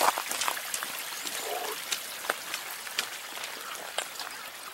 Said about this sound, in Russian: ручей горный